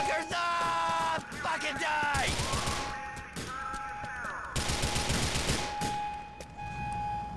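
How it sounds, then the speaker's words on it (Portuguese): Rapid gunfire fills a shootout in the video game GTA The Lost and Damned, dense bursts of automatic shots and sharp reports crackling close and loud, with shouted voices and game music running underneath. "O cara sozinho querendo trocar tiro."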